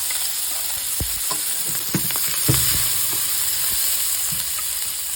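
Small chopped onion and garlic cloves sizzling in a hot skillet, a loud steady frying hiss with occasional stirring knocks and scrapes throughout.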